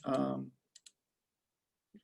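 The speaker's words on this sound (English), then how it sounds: "I'm just clicking on buttons now" A computer mouse clicks on buttons during photo-repair work: a sharp pair of crisp clicks comes after a brief spoken phrase, then a single softer click follows, all close and quiet against near silence.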